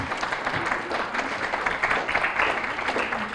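Dense, sustained applause from a crowd at a Ramayanam dance performance, steady clapping filling the room without pause.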